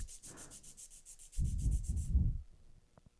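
Acrylic nail file rasping across the tip of a sculpted almond-shape acrylic nail over a clear tip, a quick run of light strokes followed by several heavier close scrapes, then quiet.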